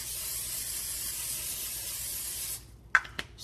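Cooking spray hisses into a hot pan for a couple of seconds before black drum fish is cooked, then stops, followed by a couple of faint clicks and light clatter.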